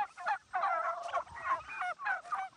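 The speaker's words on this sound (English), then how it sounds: "there's another set of turkeys right over the knoll right down there" Hundreds of turkeys on a farm pasture gobbling together in a dense, continuous warbling chorus with bursts rising and falling, fairly near and loud, no speech.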